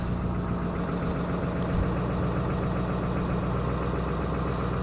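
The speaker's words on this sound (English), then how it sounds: "You guys should be able to see it's idling right around 900 RPM." A Ford 7.3 Powerstroke diesel truck engine idles steadily at a low, even rumble around 900 RPM, close up and alone, with a brief faint click partway through.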